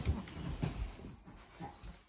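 A Chihuahua mother growling softly just after giving birth, a faint, low rumble in short uneven bursts, close by and quiet, with no voices heard.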